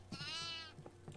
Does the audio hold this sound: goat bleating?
yes